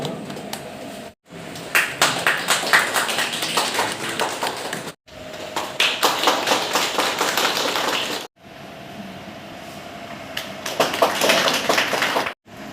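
Audience applause welcoming a guest, a dense patter of many hands in three bursts separated by brief silences, moderately loud and fairly close, with no talking over it.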